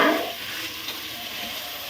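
Onions sauté in hot oil for Thalassery dum biryani, producing an even, close frying hiss with a faint stir midway and a short knock at the very end.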